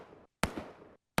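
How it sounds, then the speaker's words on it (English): Gunshot sound effects played back in FMOD Studio: two sharp, loud blasts, the first with a long ringing tail that cuts off abruptly, then a second sudden crack, with no talking. "if I'm playing gunshots now"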